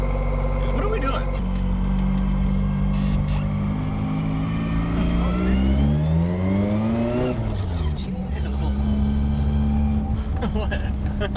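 A Nissan S14 engine revs hard, rising in pitch and then falling back to idle, loud and close, with a voice talking over the engine.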